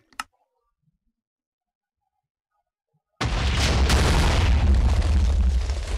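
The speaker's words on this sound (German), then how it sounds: "hier zum Beispiel haben wir jetzt auch TNT geschossen" A Minecraft TNT cannon: a sharp click, then three seconds of silence before a loud booming blast erupts into a sustained rumbling roar of explosions.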